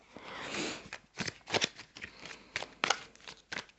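Tarot cards being shuffled in quick riffling bursts, crisp papery flutters repeating several times, close and fairly quiet with no talking.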